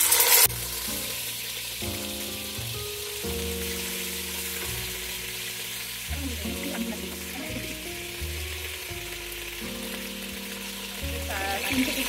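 Chicken pieces fry in about half a cup of oil in a frying pan, making a steady bright sizzle that runs under loud background music throughout.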